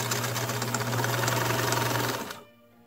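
A sewing machine stitches pleats on a yellow pelisse coat, a loud close, steady mechanical whir with a rapid rhythmic beat that stops abruptly near the end.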